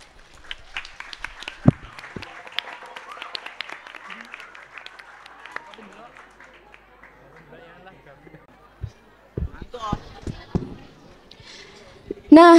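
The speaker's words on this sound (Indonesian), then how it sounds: "Beri tepuk tangan yang meriah" An audience at a school Pondok Ramadan event in Srono, Banyuwangi claps through the first half, the clapping dense and moderate. It thins out and gives way to scattered knocks and talk, with a sudden loud burst at the very end.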